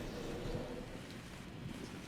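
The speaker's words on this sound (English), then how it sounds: "Now it's rain." Steady rain falling in the video game ARK, a faint, even wash of hiss with no distinct drops or thunder, continuous and alone.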